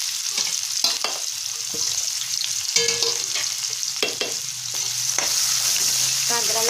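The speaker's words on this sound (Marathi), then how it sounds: "कांदा चांगला परतून घ्यायचा आहे" Chopped onion frying and being stirred in a hot pan for egg biryani, a steady close sizzle with repeated sharp scrapes and clinks of the spatula, no voices.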